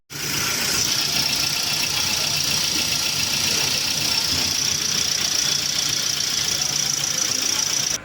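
A Toyota Avanza engine with a variable valve timing fault idles steadily for the whole stretch, a constant mechanical hum with a faint knocking texture and no change in pitch.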